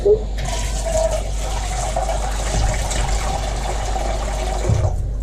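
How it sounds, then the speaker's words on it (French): Water pours steadily into a pot of soaked dal for several seconds, a continuous gushing fill that starts and stops abruptly, close by under a quiet room hum. "je prends suffisamment d'eau pour couvrir le dal et le dépasser un tout petit peu"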